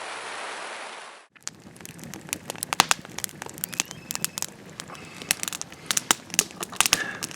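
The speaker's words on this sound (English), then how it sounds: "And here comes the rain." Rain begins falling outdoors in the Colorado backcountry at an elk hunting camp, heard as irregular crackling and pattering drops landing on a surface, following a burst of hissing noise that cuts off.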